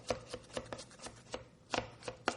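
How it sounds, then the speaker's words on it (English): A knife chops cucumber finely on a board for tabbouleh, giving about nine crisp, close, quiet cuts in an uneven rhythm with a short pause in the middle and no talking. "with tabbouleh, it's important to chop the cucumber up pretty small"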